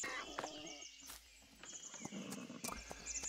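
Quiet hoofbeats of a horse in Farming Simulator 22 clop irregularly, a few sharp knocks spaced over a few seconds, with a soft whinny-like tone in the background.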